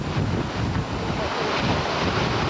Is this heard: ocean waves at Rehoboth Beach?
yes